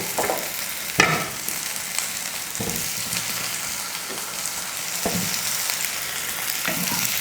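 Tomatoes and shallots sauteing in a pan, a steady sizzle running throughout with a few sharper stirring scrapes and clatters, close and moderately loud with no talking.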